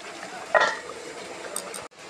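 Chicken cooking in a pan for a home birthday meal: a short burst of frying hiss with a metallic clink of stirring partway through, then a quieter steady background.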